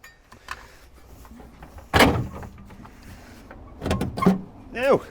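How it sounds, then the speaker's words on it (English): The rear bumper of a 1985 Ford Fiesta comes off with a few hollow clunks and rattles against a quiet garage background, and a voice briefly sounds near the end. "There's the rear bumper off."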